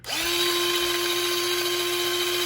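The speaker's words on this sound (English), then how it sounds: "I'm not sure it's really grinding it down, but I know that this grinder does better when it has more stuff in it." A small battery-powered grinder runs steadily on half a cup of oats, a loud continuous motor whine holding one even pitch throughout after a quick spin-up.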